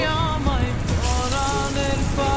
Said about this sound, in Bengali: এই একই তেলেতে আবার পেঁয়াজগুলো দিয়ে দিব আবার আমি দিয়ে দিচ্ছি